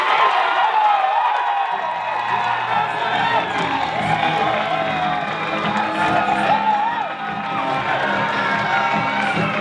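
Loud, sustained cheering, whooping and applause from a school event crowd with children's shouts mixed in, dense and continuous for the whole stretch.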